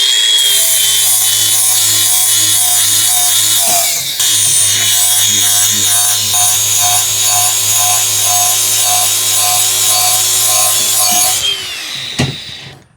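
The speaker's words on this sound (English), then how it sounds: "I've got some extra flap discs, so I'm just going to slam through it." A flap disc on an angle grinder works the inside of a cast iron pan, a loud, steady high-pitched whine and gritty rasp that dips briefly once, then winds down near the end.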